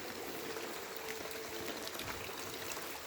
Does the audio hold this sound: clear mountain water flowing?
yes